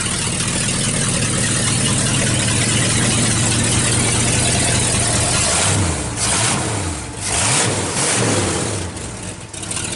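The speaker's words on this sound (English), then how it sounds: "it sounds like a 460 with no mufflers to me" Unmuffled 460 V8 in a Ford Ranger drag truck, exhausting through 2-inch straight pipes, rumbles loud and close, idling heavily, then blipping through several sharp revs toward the end.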